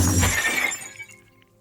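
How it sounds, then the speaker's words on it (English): A shattering glass-like crash stands in for a ship breaking apart in a narrated story effect; a loud, dense burst of breaking fragments decays over about a second into quiet tinkling. "The ship shatters and the moon shrinks."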